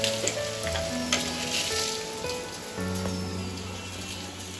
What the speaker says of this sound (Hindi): सब और थोड़ा सा जीरा डालेंगे इसमें